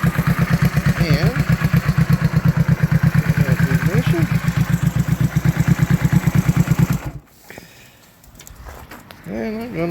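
Honda 450 motorcycle engine idling close with a steady loud chugging pulse, then cutting out around seven seconds into quiet with a voice talking near the end.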